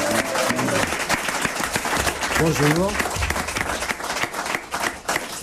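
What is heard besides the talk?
studio audience applauding guests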